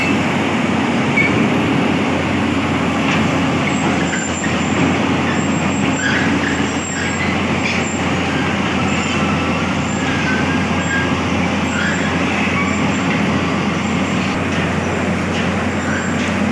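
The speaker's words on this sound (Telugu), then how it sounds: "మన క్రేన్ అయితే ఫుల్గా సెట్ చేసుకొని ఇంకా లేపుతూ ఉన్నాడు" A crane sets up fully and keeps lifting a load in the open, a steady loud mechanical rumble with engine drone running throughout, with no voices.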